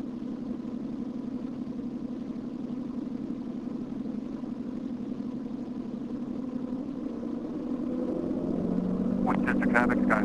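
A Cessna Skyhawk light aircraft drones steadily in flight from inside the cockpit, a constant engine hum that rises slightly toward the end, where a voice speaks over it.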